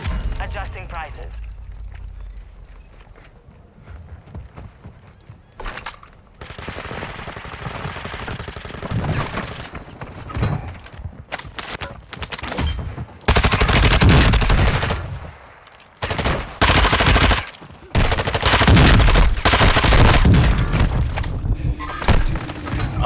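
Gunfire in Call of Duty: Modern Warfare II comes as loud bursts of automatic fire and booming shots, growing denser and heavier toward the end, with a player talking over the action and in-game announcer lines.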